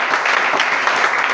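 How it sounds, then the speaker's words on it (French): A church congregation claps together to acclaim Jesus Christ, giving a dense, steady wash of close applause that fills the short moment with no break. "Acclamons le Seigneur Jésus-Christ"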